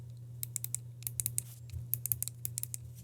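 Buttons on a HATOR Hypergang 2 Wireless headset are pressed repeatedly, giving sharp close clicks in irregular quick series over a low steady hum.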